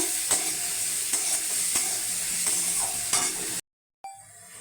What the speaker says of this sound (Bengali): আদা গ্রেট দিয়ে দেবো, আদাও গ্রেট করে নিয়েছিলাম, একটু ভেজে নেব